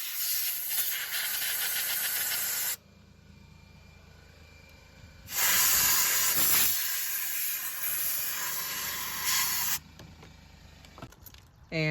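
Compressed air blasts out of a tool to clear gunk from the fuel rail area of a second-generation Toyota Prius engine during injector replacement: two long, loud hissing bursts with a quieter gap between them, followed by a few short puffs.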